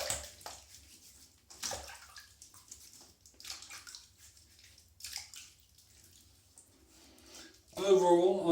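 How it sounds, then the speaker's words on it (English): Water runs from a tap as a face is rinsed after shaving with a Bic razor. Someone talks first, then the splashing flow rises loudly in the final second. "let's have a bit of a rinse off"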